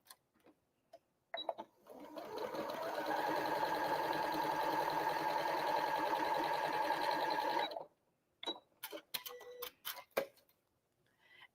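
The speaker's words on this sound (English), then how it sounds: "I'm going to go ahead and sew directly on that line" A sewing machine runs steadily for about six seconds, stitching quilt pieces straight along a marked line, then stops; a few sharp clicks and taps follow in near silence.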